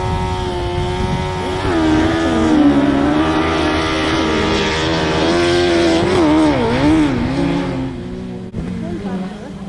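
Autograss race cars revving at the start line of a club race in Central Scotland, a loud sustained engine drone with rising and falling pitch sweeps as drivers blip throttles before the off.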